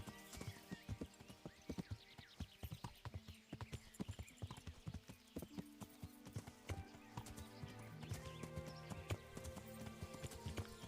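Horse hooves clip-clop in a steady trot through the medieval game Kingdom Come: Deliverance, close and fairly loud, with an occasional whinny and faint background music mixed underneath.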